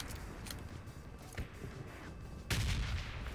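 A few scattered gunshots ring out in a PUBG Mobile battle royale match, mostly distant and fairly faint, with a sharper, closer shot near the end.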